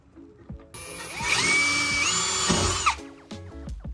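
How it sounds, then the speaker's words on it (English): A power drill whirs up for about two seconds, drilling pilot holes at a differential mount on a BMW E30, its pitch steady then dropping as it winds down, close by with faint clicks before and after. "Let's go ahead and drill these out."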